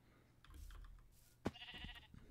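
A single sheep's bleat from a video game set on a hillside, brief and fairly clear near the middle, over soft game ambience and faint clicking.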